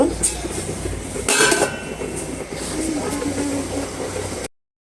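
A metal lid goes onto a cooking pot of rice, one brief clanking burst about midway over a background of kitchen noise and a simmering hiss, close by, before sudden silence.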